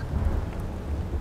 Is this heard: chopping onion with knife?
no